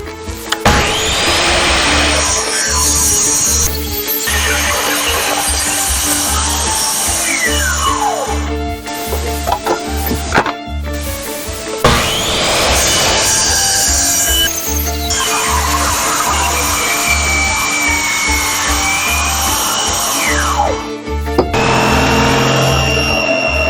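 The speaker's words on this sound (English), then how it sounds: "Oddly, I don't have a handsaw, so I'll just use the jigsaw." A jigsaw cuts wood for stair treads on a pool deck, a loud, steady buzzing run that stops briefly around the ten-second mark and then starts again, ending in a short pause.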